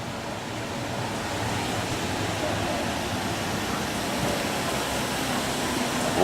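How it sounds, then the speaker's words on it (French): A steady, broadband whoosh of the blower fan on a wood-fired 3x10 stainless steel maple syrup evaporator runs continuously at an even level, with no talking. "Alors, regardez ici, là, on a le ventilateur."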